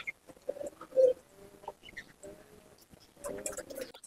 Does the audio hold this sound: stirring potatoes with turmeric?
no